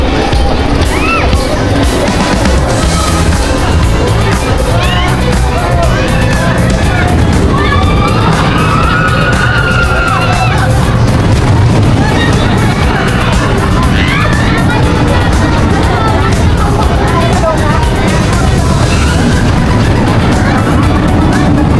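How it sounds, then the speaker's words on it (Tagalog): Riders scream and shout on the Twin Spin amusement ride at Enchanted Kingdom, a loud, continuous wash of crowd noise and ride rumble with overlapping cries rising and falling throughout. "narinig niyo yung mga sigawan namin"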